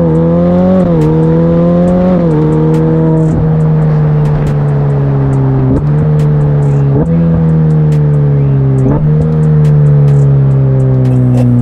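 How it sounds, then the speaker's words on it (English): Novitec-tuned Ferrari F8 N-Largo turbocharged engine cruising at speed, a loud steady drone with several brief dips and recoveries as it shifts or eases off, turbo blowing sound underneath, no talk. "At higher speeds especially, it just ends up giving you this blowing sound from the turbos."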